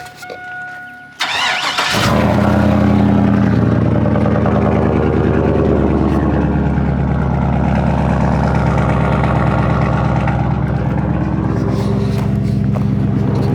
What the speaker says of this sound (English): Fire this old Chevy up.